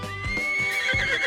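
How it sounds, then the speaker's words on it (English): A single horse whinnies in a short, loud, wavering neigh close to the listener, with a few soft thumps beneath it. "Horse."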